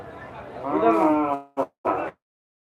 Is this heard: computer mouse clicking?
no